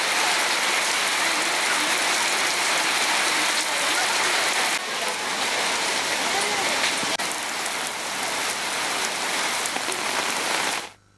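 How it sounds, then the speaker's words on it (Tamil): Heavy rain pours down in Thiruthuraipoondi, Tiruvarur district, as a dense, loud, continuous hiss of drops hitting surfaces that holds steady before cutting off abruptly. "திருவாரூர் மாவட்டத்தில் 1 மணி நேரத்திற்கும் மேலாக கனமழை பெய்து வருகிறது"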